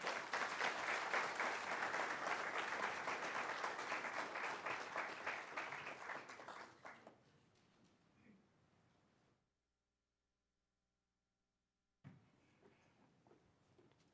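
Audience at a Nurses Week opening ceremony applauds loudly and steadily for about seven seconds, then the clapping fades to a faint murmur, drops to near silence, and light room noise returns.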